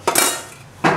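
Steel utensils clink against a bowl as cooked, lightly toasted bhel mix is transferred into it: two short bursts of clattering and scraping, close and fairly loud, with a quieter rustle between them.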